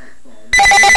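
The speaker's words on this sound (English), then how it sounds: "My phone's ringing." A telephone bell rings for an incoming call at home with an answering machine set to pick up, bursting in loudly halfway through with repeated bright electronic trills after a quieter stretch of low voice.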